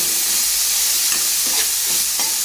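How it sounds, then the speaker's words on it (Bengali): Boiled peas are stirred with gram flour and a pinch of salt in a pan for a potato-pea curry, a steady close scraping and soft sizzle with a few louder spoon strokes, no talk. "এটাকে ভালো করে নাড়াচাড়া করে নিচ্ছি, কারণ এটাকে চটকে নিতে হবে ভালো করে।"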